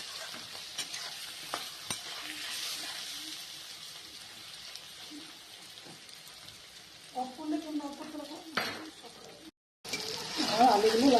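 Lentil mixture with salt and turmeric being stirred in a pan, giving soft scraping and light sizzling that grows busier toward the end, with brief voices and a short silent gap.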